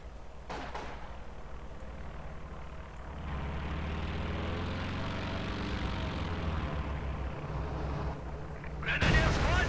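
Ju aircraft making a pass over the battlefield in Company of Heroes 2: a rising, droning engine roar that swells and holds, with gunfire and impacts around it and a sharp burst near the end, under voices.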